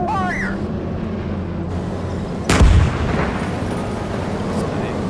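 A tank main gun fires in the PC tank combat game Gunner Heat PC, one loud, booming shot around the middle with a short rumbling tail over a steady background hum.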